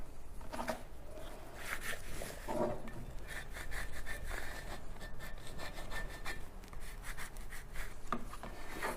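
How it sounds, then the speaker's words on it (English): Squeegee pressed and dragged over letter stencils on a glass block, giving close rubbing, scraping strokes in an uneven rhythm. "Squeegee down all those little letters."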